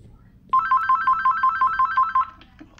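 A phone ringtone in a Roblox game plays as a loud, rapid series of bright repeating electronic beeps for about two seconds, then stops.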